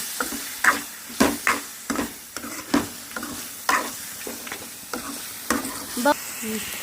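A spoon stirs salted prawn curry cooking in a pan, giving steady rhythmic scraping strokes with a soft sizzle underneath, close and moderately loud.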